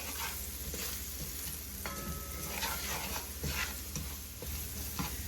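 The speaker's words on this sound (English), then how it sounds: "we just want to toast our curry" Curry powder toasting in a pot for curry goat gives a continuous dense sizzle and frying hiss, stirred with occasional scraping and clinks throughout, without any speech.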